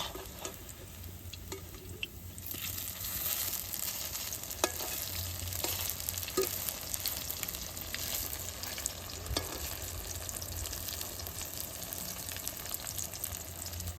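Banana peel chops frying in oil, a soft continuous sizzle with scattered faint ticks and crackles, close but quiet, no voices.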